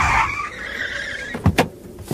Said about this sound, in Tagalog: Hinto mo ang kotse